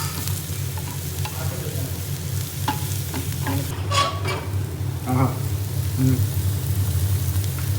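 Asafoetida and spice powders sauté in a pan, a steady moderate sizzle with a low hum underneath and occasional stirring scrapes and clatter.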